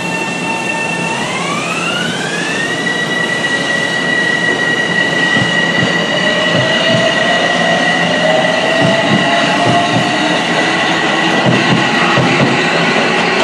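A diesel train, Metro-North or Amtrak, passes Scarborough station at night: a loud, steady rail roar with sustained horn-like tones that glide upward, then squealing wheels and clattering cars, with no voices.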